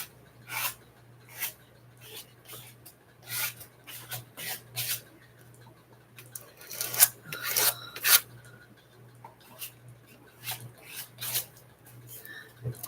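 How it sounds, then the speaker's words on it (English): A card scrapes paint off a surface in a series of short, dry rasping strokes, each close and fairly quiet, with a steady low hum underneath throughout. "I got to scrape this off in my scrape off book"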